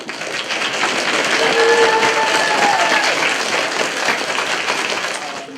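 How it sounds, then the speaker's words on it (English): An audience that has risen to its feet gives sustained applause for a city mayor, a dense, loud, even wash of many hands clapping that holds steady for several seconds before easing slightly at the end. "And give a round of applause to the mayor of this city, Mayor Anthony Coachman."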